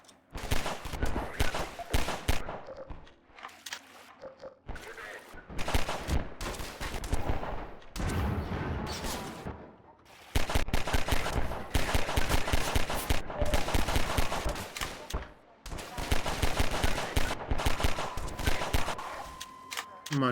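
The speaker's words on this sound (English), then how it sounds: "Who's shooting?" Rapid bursts of gunfire from the video game Half-Life 2, loud and near, crackling in dense volleys with brief pauses between them.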